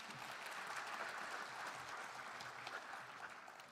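Steady, moderately loud applause from an audience at a public hearing in Haenam honoring the superintendent of education, continuous clapping across the whole span with a slight easing toward the end.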